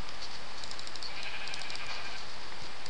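Sheep in the Minecraft video game bleat in several short, repeated calls over a steady hiss of background noise, fairly quiet throughout.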